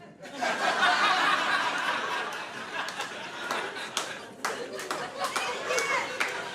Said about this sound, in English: Like, round of applause.